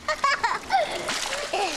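Water splashing and sloshing in a children's paddling pool, quick bright splashes mixed with children's voices chattering over them.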